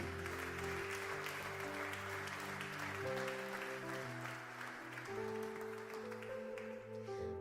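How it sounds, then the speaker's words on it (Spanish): Applause from a church congregation during a sermon, a soft, somewhat distant patter of clapping mixed under sustained keyboard chords from worship music. "Dale un aplauso a tu Dios."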